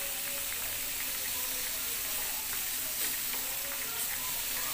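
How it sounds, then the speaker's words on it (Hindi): Mutton pan-roasting in a little oil, dry and without much spice, giving a soft, steady sizzle close up, with occasional light clicks and scrapes of stirring. "सेक लीजिए इसको। कम तेल में, बगैर तेल का"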